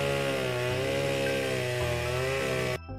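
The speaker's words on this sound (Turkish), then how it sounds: "Bu ses ağaçların kesilme sesiydi" Chainsaw cutting trees in a forest, a steady loud buzzing drone with shifting pitch that runs continuously and then cuts off abruptly near the end.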